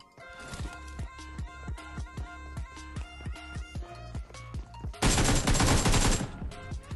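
Rapid gunfire in a PUBG match with a shotgun nearby: a steady train of sharp, evenly spaced shots for about five seconds, then a loud burst of dense, noisy blasts near the end.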